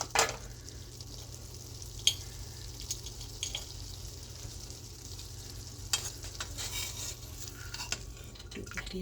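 River anchovies frying in a pan, a low, quiet continuous sizzle with occasional scrapes and clinks as the fish is turned, close but soft, no voices.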